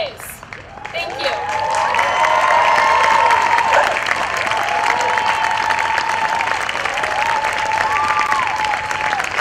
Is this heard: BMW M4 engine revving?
no